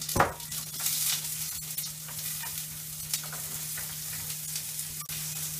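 Onion frying in a pan for lomo saltado gives a steady close sizzle with light stirring scrapes and a couple of sharper knocks, under a constant low hum, with no talking.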